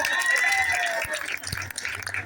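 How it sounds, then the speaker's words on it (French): Guests at a civil wedding ceremony in Gabon clapping and cheering, a brief burst of applause with a whistling tone and voices over it. "applaudissez aussi pour moi"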